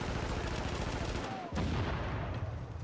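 Gunfire in The Division as a shot is aimed at a seatbelt, dense crackling bursts with a sharp impact near the middle, all under a busy game soundscape.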